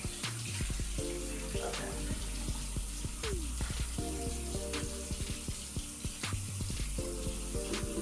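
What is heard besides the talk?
rinsing face with running water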